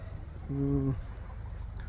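Chickens from a new poultry house, a single short clucking call from a bird close by, standing out briefly over quiet background noise.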